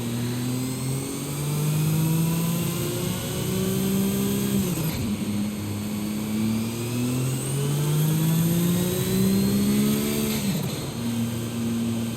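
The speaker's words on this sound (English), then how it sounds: "that is the last inbound cargo flight racing neck and neck with an AMG" A racing car beside an AMG on a road, with an inbound cargo plane overhead in Forza Horizon 5: a loud, steady engine drone with its pitch climbing and dropping as the car speeds up and eases off.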